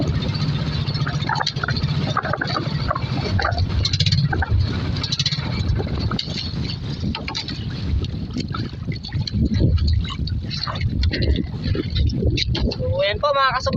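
Strong northeast monsoon wind blows at sea around a small fishing boat, roaring and buffeting the microphone continuously with water splashing beneath, while someone talks over it.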